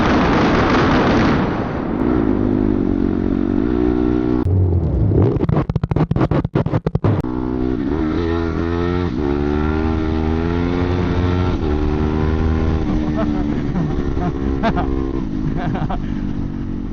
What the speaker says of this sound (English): let me hit that two-step for you.